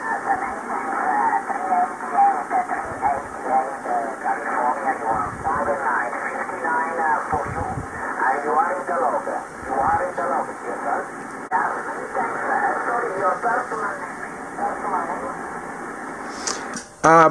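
An 11-meter band radio transmission picked up on a Big Bamboo quad antenna, with a band-limited voice coming through steady hiss and crackle that ends in a sharp burst of noise.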